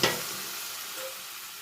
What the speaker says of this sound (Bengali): এবার আমি একটু জল দিয়ে বাদবাকি ডালটা এর মধ্যে অ্যাড করে দেব।